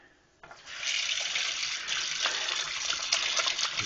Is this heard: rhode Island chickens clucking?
no